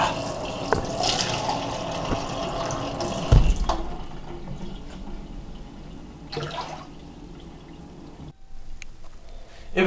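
Running water from a tap, a steady splashing broadband wash with a few louder bumps and clatters, close by.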